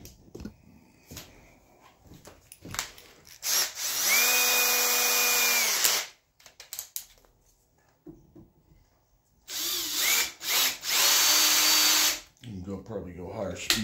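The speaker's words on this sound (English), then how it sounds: "Probably go higher speed on this little drill." A small electric drill bores into a chunk of white oak stock for an axe handle, running in two loud sustained bursts of a few seconds each, separated by quieter handling knocks and scraping.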